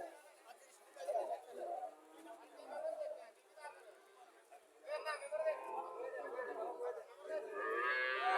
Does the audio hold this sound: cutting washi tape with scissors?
no